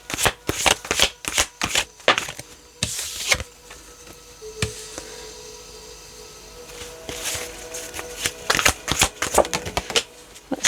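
Tarot cards being shuffled for a card reading, with rapid bursts of riffling and snapping in quick clusters, a quieter stretch in the middle, then dense shuffling again, close and loud with no talking.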